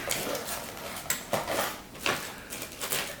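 Metal pieces of a greasy Tavor X95 cleaning rod kit clink and rattle together as they are handled, a run of light, close metallic taps and scrapes with several sharper knocks.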